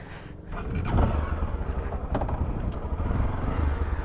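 A Honda XRE 300 motorcycle engine revs hard during a wheelie and holds a loud, rough drone nearby, rising after a brief lull.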